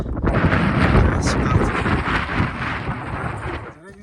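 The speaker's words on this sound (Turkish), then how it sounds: "İnanılmaz bir rüzgar var." Strong mountain wind near a summit roars and buffets steadily, rushing across the microphone with a continuous heavy noise that eases slightly near the end.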